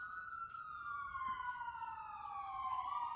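An ambulance siren wails steadily in the distance, its falling tone sweeping smoothly and continuously over a low background rumble.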